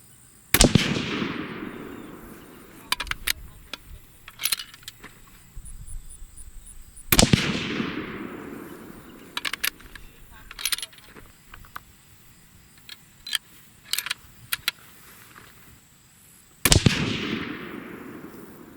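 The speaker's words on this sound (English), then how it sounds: "we're going to go ahead and shoot the next 3-shot group" A Savage 12 rifle in 6.5 Creedmoor, loaded with Berger bullets, fires three loud, sharp shots several seconds apart, each with a ringing tail, while small mechanical clicks and handling noises fill the gaps.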